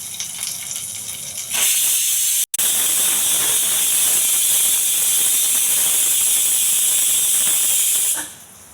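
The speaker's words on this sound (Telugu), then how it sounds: "కుక్కర్ విజిల్ వచ్చిందండి" Pressure cooker on a stove venting steam, a loud continuous hiss that starts abruptly, cuts out for an instant, resumes at full strength for several seconds and then tails off.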